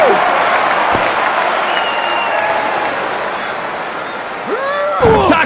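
A steady roar of crowd cheering and applause fills a wrestling arena in the Dreamcast game WWF Attitude, with a sharp slam near the start and more impacts toward the end; a commentator's voice is heard.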